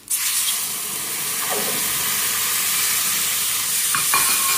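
Water is poured into a hot pan of spiced besan curry (pithla), a loud, continuous sizzle and hiss, steady throughout with faint clinks of utensils.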